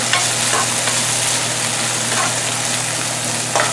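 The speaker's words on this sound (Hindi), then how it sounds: "देखिए हमारा प्याज फ्राई हो गया है।" Onion fries in a pan under a loud, continuous sizzle, with occasional scraping strokes as it is stirred, heard up close and without speech.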